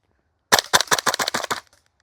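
Double Eagle DWS Lupus gas-powered airsoft gun firing a rapid burst of about eight sharp, close cracks in quick succession, loud and alone, then silence.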